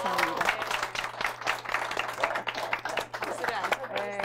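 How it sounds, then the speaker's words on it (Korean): Brisk applause from an audience at a book talk with an author, dense rapid clapping with voices talking over it. "여러분 우리 이 대목에서 와. 뜨겁게 응원의 박수 한번 보내드릴까요?"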